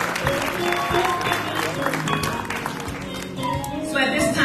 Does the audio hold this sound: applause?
yes